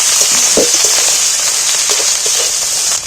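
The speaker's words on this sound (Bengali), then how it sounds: "এখানে আমি এক চামচের মতো আদা আর রসুন বাটা দিয়ে দিচ্ছি এটাও একটু পেঁয়াজের মধ্যে তেলের মধ্যে মেরে নিচ্ছি" Ginger garlic paste frying with onion in oil, a loud close hissing sizzle that runs steadily with light stirring knocks, easing slightly at the end.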